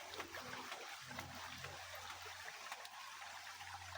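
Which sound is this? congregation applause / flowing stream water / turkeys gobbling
flowing stream water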